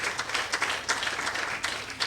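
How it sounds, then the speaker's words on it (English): Audience at a school speech contest bursting into applause, a thick continuous patter of many hands clapping at close range with a few sharper claps standing out, and no talking on top. "Please put your hands together."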